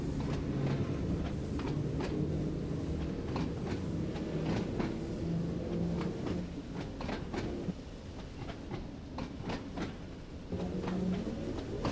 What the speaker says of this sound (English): let's take a listen to the train as we pull off